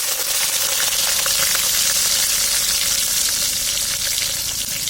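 Chopped garlic and whole spices such as fennel, bay leaf, clove and cardamom sizzle steadily in hot oil for a Tamil kovakkai fry, a loud, continuous close-up frying hiss with no talking.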